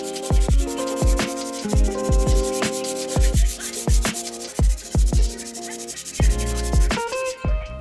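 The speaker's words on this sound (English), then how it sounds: "I let the joint compound dry overnight and then sanded up the edges to clean them up." Dried joint compound being sanded along its edges on a DIY fall home decor piece, heard as repeated rough rubbing strokes in a steady rhythm, close and fairly loud with no talking.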